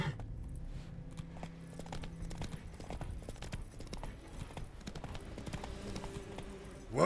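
The horse Roach clip-clops in The Witcher 3, quick, faint, regular hoofbeats at a steady gait with a snort-like burst at the very end.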